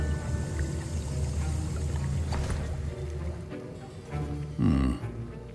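Liquid sloshing and swirling as a potion is stirred in a cauldron in Hogwarts Legacy, a steady watery churn under a music bed, ending with a louder bubbling gurgle near the end.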